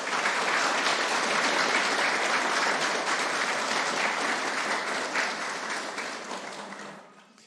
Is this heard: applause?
yes